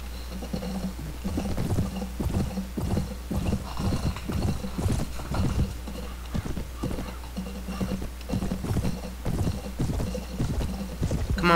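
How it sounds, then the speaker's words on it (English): Horse hooves gallop in the Mount and Blade Warband video game, a steady, fast clip-clop rhythm pounding without a break throughout under a faint wind-like hiss. "We will charge them with my very fast horsey."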